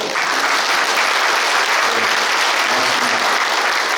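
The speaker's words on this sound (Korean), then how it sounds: "우리 국회의원님한테 도의원님한테 박수 한번 쳐주시죠." Loud, dense applause from a large crowd at a New Year's greeting event, honoring lawmakers, sustained evenly throughout without pause.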